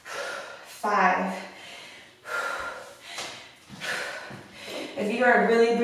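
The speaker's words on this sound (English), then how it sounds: "If you are really breathing heavy like I am" A person breathes heavily during a kettlebell workout: loud, close, ragged gasps and snorting exhales come in uneven bursts, one after another.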